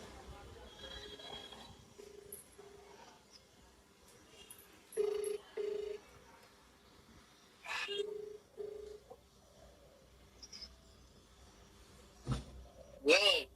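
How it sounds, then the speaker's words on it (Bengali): A telephone rings in a quiet bedroom, its short tone bursts coming in pairs at regular intervals over a low background, with a brief electronic chirp near the end. "কাজের সময় ফোন এসে গেছে সুমিতের।"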